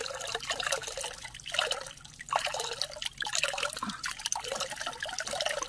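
Water from a spring beside a river trickles and splashes steadily nearby, with irregular gurgles and drips under an open outdoor hiss.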